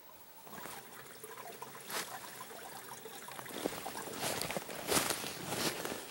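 Water trickles and splashes as a container is dipped into a mountain stream in a winter ravine on Mt Washington, quiet at first, then louder sloshing bursts near the end with light rustling.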